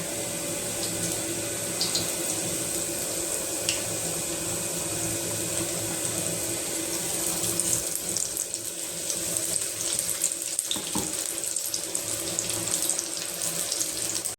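Cauliflower fritters (bhaji) fry in a pan of oil, giving a dense, even, hissing sizzle that holds steady and close throughout.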